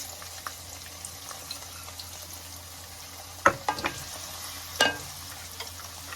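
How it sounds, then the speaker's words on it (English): Finely diced white onions sizzle and fry in a pot for Somali rice, a steady close crackle broken by a couple of sharp stirring clanks and scrapes. "Now in goes our brunoise size of the white onions."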